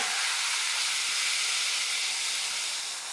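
Tempering of asafoetida and fresh coriander sizzling in hot oil, a steady close hiss that holds for about three seconds with no pauses.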